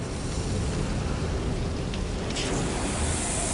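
Thunder from a lightning strike over Little Venus, Wyoming, where the bolt sparks a wildfire, heard as a steady rain-like roar with a sharper crack swelling in about two-thirds of the way through, loud and continuous, with no voices.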